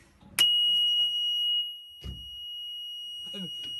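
A van's warning buzzer sounds during a pre-drive safety check, a single loud steady electronic tone lasting about a second, followed by brief speech and quiet.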